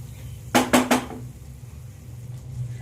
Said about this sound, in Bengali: দিয়ে আবারও আমি 3-4 মিনিট ধরে মশলাটা মটনের সাথে ভালো করে কষিয়ে নেব।